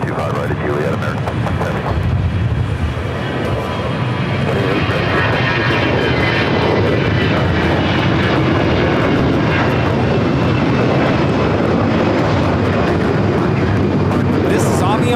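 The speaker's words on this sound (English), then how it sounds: "This is Avianca 523 taking off to San Salvador on the A320." Avianca A320 airliner taking off at LAX, a loud sustained engine roar with a broad rushing whine that stays strong the whole way, with speech heard over it.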